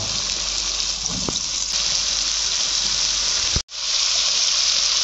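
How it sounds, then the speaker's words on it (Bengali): Chopped snake gourd goes into a hot pan seasoned with turmeric and salt, producing a loud continuous hiss and sizzle close by, broken once by a sharp momentary cutoff before the steady frying resumes. "এবার আমি চিচিঙ্গে কুচাগুলো দিয়ে দেব"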